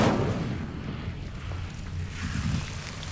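The Incendio fire spell in Hogwarts Legacy bursts out with a sharp roaring whoosh at the start, then a rumbling crackle of flame that lingers and swells slightly near the end.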